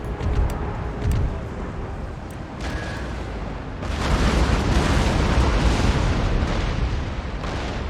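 Naval cannon fire from a sea battle in the game Empire: Total War, with loud rumbling booms and crackling bursts layered densely over a continuous roar that grows heavier partway through.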